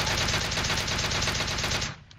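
Automatic gunfire in the mobile game PUBG Mobile, fired from a prone position with a bipod-mounted weapon: a loud, rapid, unbroken burst of shots for about two seconds, then it stops abruptly, with no talking.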